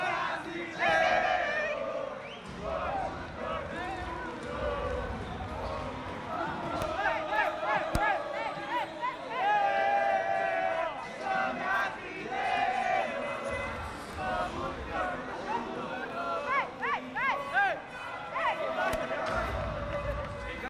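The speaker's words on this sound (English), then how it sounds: "I love the Brazilian crowd." A large Brazilian crowd at the Snapdragon Mobile Masters 2024 Free Fire esports event, chanting and cheering loudly in rhythmic waves that fill the whole stretch.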